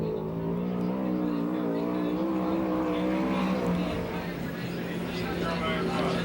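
USAC/CRA sprint car lapping Perris, California track, steady high engine drone with shifting harmonics, distant and moderate, under announcer commentary.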